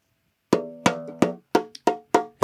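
Banjo drum-skin head tapped by hand, seven short bright knocks at a steady rhythm, close and clear with nothing else in the background.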